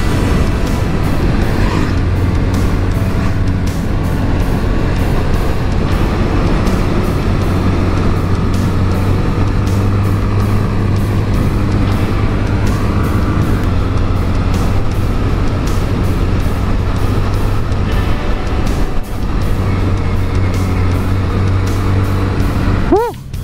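A Honda Grom motorcycle on Stunt Road runs at a steady, loud engine drone with wind rush throughout, rising and falling slightly as it works through the bends.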